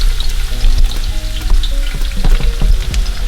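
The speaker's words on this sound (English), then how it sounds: "in this pot, the oil is hot. I put in some onions." White onions are dropped into hot oil in a pot for fried rice and set off a loud, steady crackling sizzle close by, with scattered pops and a few stirring knocks throughout. No one speaks.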